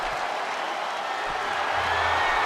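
A wrestling arena crowd at an NXT show cheers for Zachary Wentz, a steady, moderately distant wash of crowd noise and scattered clapping with no voices up close.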